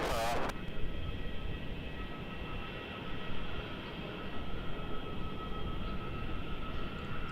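A Velocity Airlines jet taking off from runway 34 at Melbourne Airport, a steady broad engine roar at a distance, continuous throughout, with a brief radio squawk at the start.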